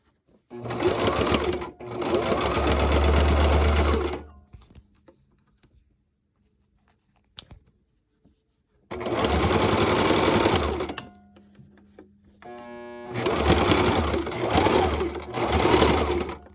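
A sewing machine stitches binding straps in steady bursts of rapid mechanical whirring, separated by quiet pauses with faint handling sounds.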